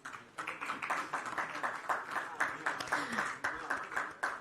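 Audience at a rugby media conference for the Asia Pacific Lions vs Northampton Saints match claps during a sponsor check presentation, with steady, rhythmic, moderately loud applause throughout and voices mixed in.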